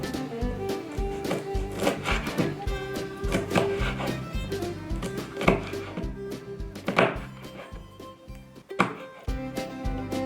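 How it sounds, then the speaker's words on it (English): Steady knife chopping peppers on a cutting board, irregular thunks repeating for several seconds, close by, with no talking. "take 4 peppers and cut them into pieces"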